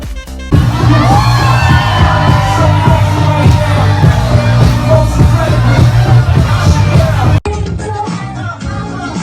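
A large crowd at an event in Valencia, Spain, cheering, yelling and whooping loudly and continuously, close and dense, with a brief break near the end before more scattered shouting.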